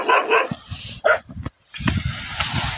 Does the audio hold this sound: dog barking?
yes